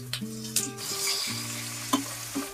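Homemade curd goes into a pan of frying spices and ginger paste, giving a steady close sizzle with the scrape and clatter of stirring knocks at irregular moments.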